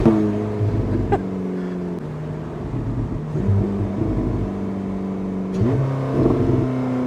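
Porsche 918 Spyder engine revving under throttle, loud and close, with a steady droning idle that rises in pitch on two sharp revs, one near the start and one toward the end.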